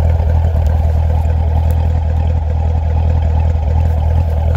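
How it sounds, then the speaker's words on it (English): Corvette two-seater exhaust running at the rear, a steady loud low rumble of an idling engine heard close up without talk. "You can hear the exhaust from the back."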